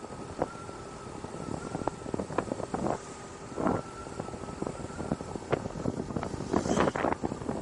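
Wind gusts buffet the microphone outdoors among open fields, a rough rumbling roar with irregular bursts and no speech.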